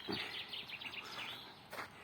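Small birds chirp among Roman ruins in late spring, with faint, scattered calls over a steady outdoor hiss and no voices.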